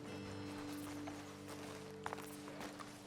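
Horses in Red Dead Redemption II after the riders dismount on a ledge above a road, with hooves clip-clopping and a brief whinny over a steady low game hum.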